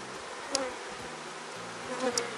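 A honey bee swarm in a hive gives off a dense, steady buzzing drone, close and continuous, with a couple of sharper clicks breaking through.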